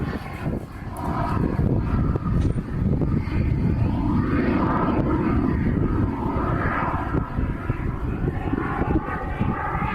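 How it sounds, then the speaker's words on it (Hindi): A military airplane flies at an air show in Bulgaria, its engine roaring loud and close in a sustained, rumbling drone that swells and holds for the full ten seconds. "एयर शो से ठीक पहले सेना का विमान क्रैश हो गया।"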